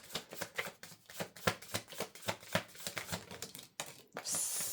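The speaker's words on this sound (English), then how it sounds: "Last shuffle. Anything in this deck for my squad?" A deck of tarot-style cards is shuffled in quick riffling bursts, a rapid run of crisp flicks and slaps close by, ending in a brief hiss with no talking.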